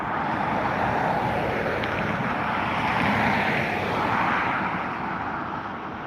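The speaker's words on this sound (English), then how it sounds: "taking off now, we have the Ryanair 737-800 now has just begun its takeoff roll" A Ryanair Boeing 737-800 jet begins its takeoff roll at Dublin Airport, a steady broadband roar heard from a distance that swells slightly and then eases, with wind noise over the microphone and no voices.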